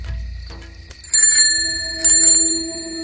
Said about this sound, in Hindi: अचानक साइकिल की घंटी अपने आप बजने लगती है।